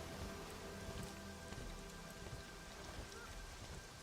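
Steady rain pours down in the fantasy MMO Monsters & Memories, a dense, even hiss with soft rumbling underneath, continuous and fairly quiet throughout.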